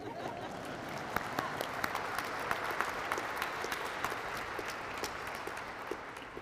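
A large audience at the Catholic University of America Columbus School of Law commencement breaks into steady, dense applause that holds evenly throughout, with a few sharper individual claps standing out above the crowd.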